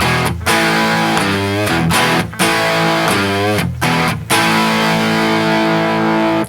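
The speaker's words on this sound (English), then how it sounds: "Here's the sound without the overdrive." Electric guitar through a Trinity Amps Triwatt amp with overdrive off, playing sustained chords with brief pauses between changes, thick and buzzy, loud and continuous.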